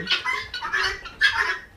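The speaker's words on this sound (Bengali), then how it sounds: "এই যে দেখতে আছেন আমার তিথি মুরগিগুলা" Several Tithi-breed chickens on a poultry farm cluck and squawk nearby in short overlapping calls, fairly loud with no one talking.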